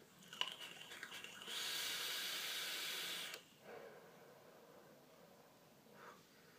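A long exhale of e-cigarette vapor from an Igo W6 atomizer makes a soft breathy hiss of about two seconds after a few quiet clicks, followed by faint breathing, close and quiet.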